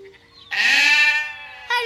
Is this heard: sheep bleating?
yes